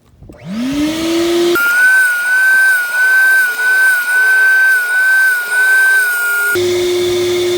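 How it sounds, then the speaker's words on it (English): A vacuum cleaner spins up and roars steadily while sucking surface dust off an old, dirty seat, its whine shifting slightly as the nozzle moves, loud and close, with no talking. "So we're just going to vacuum this up."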